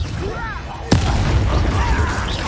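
A Confringo blasting spell from the Hogwarts Legacy video game goes off as one sharp, loud boom. A dense rumbling wash of game effects follows, and faint voices run beneath.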